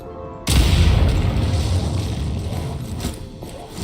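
Explosives detonate in Genshin Impact with a sudden loud boom that cuts in from near silence, then a long rumbling, rattling tail of debris that slowly fades.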